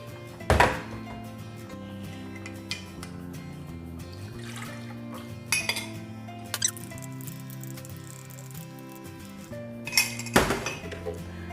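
Ingredients for a Nesvita frappe go into a blender jar with clinks and knocks of utensils against the container, a few louder clatters at the start and near the end, and a faint squeaky scraping in between, with no one talking.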